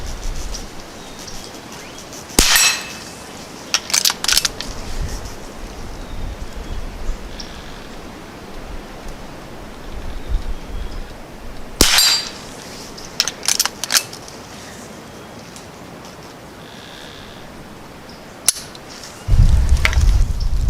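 Subsonic CCI Quiet-22 rounds fired from a Henry American Eagle .22 rifle outdoors: three sharp but subdued cracks spaced several seconds apart, each followed by brief mechanical clicks and clatter.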